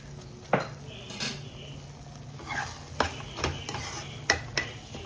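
Spices such as chilli powder and coriander powder frying in oil on a medium flame for paneer butter masala, with a steady low sizzle under repeated clinks and scrapes of a spoon against the pan.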